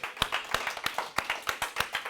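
A church congregation claps together after a sermon on the armour of God, a steady rhythmic beat of hand claps at roughly three per second, moderately near and carrying on alone without talk.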